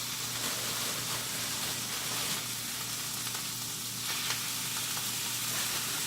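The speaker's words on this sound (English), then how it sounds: "we're going to give those a quick sauté" Shrimp being given a quick sauté in a hot pan for a potato, shrimp and bacon chowder, with a steady, even sizzle that holds unbroken throughout.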